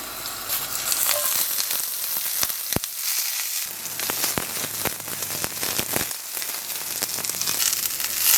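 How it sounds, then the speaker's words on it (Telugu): Asparagus sizzles in a little butter in a pan, a close crackling fry with scattered sharp pops and the odd clink or scrape as the spears are turned, steady throughout with no talking. "సో ఆస్పరాగస్ ఇట్లా క్విక్గా ఫ్రై చేసుకుంటే చాలు"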